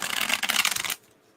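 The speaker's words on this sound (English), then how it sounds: "I should really center my shuffling and show people my shuffling here." Tarot cards being shuffled close up, a quick crisp run of riffling flutters lasting under a second before cutting off to near silence.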